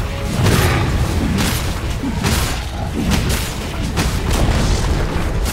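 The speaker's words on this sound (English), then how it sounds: "Dire's middle tower has fallen." A Dota 2 tower collapses in a dense, sustained rumble of booming crashes and thuds that hold steady and loud throughout, with repeated impact bursts and no talk over them.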